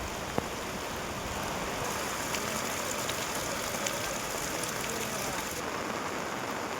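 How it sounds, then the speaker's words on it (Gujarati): Rain falls steadily in Dang district, Gujarat, as a constant, even wash of downpour noise with no talk and a few faint drips and knocks over the top. "ડાંગ જિલ્લામાં લાંબા સમયના વિરામ બાદ ફરી એકવાર શાનદાર વરસાદી માહોલ જામી ગયો છે"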